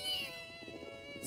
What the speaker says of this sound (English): Second, Dido the cat.